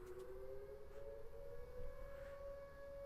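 Civil defense sirens sound during the Wednesday noon test in Tulsa: a faint, distant, steady wail holding a sustained tone beneath quiet outdoor ambience, with no talking.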